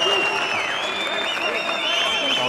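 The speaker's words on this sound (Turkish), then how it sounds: "Alkış geldi Jaba'ya tribünlerden." Spectators in the stands at a boxing match applaud, a steady crowd wash mixed with whistle-like tones throughout.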